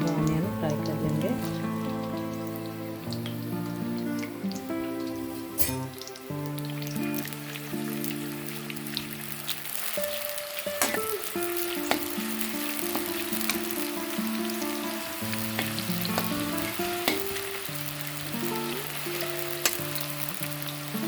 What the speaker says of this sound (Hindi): अब हम इसमें थोड़ा थोड़ा कर यह ऑनियन फ्राई कर लेंगे।